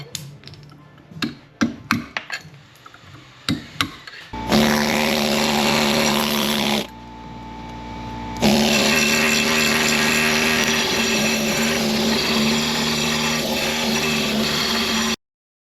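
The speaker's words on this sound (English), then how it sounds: "Just drill the ends of those rivets off" A power drill cuts off rivet ends on a John Deere B tractor transmission part. A few light taps come first, then the drill whines loudly and steadily, stops briefly and starts up again for a long, continuous run.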